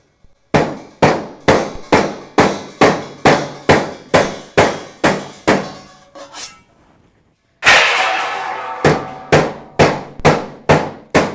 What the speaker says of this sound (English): we're going to hammer on this piece here